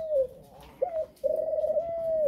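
Laughing doves in a breeding loft give soft, close coos, one short call followed by a longer, steady cooing phrase, with no voices over them.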